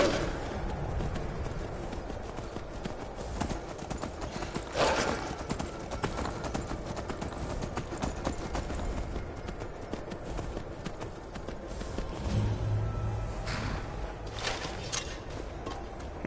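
Horse hooves clip-clop at a steady run in the Skyrim VR video game, a fairly quiet rhythmic patter that carries through the whole stretch with occasional brief louder game sounds and a faint whinny.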